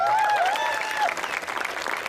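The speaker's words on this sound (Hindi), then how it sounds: "एक बार भाई सुरेंद्र के लिए ताली वाली बजा दें थोड़ी" Brief burst of audience clapping for poet Surendra at a Hindi kavi sammelan held at IIT Jodhpur, fairly close and lively, tapering unevenly toward the end with some crowd murmur mixed in.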